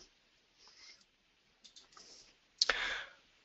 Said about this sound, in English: we have to press home button on the keyboard